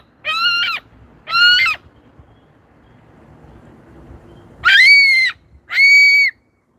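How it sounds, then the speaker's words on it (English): A pet parrot at home on a patio lets out four loud, harmonic squawk-like calls in two pairs, with a quiet pause between them and no talking. "he just wants to make some fun noises"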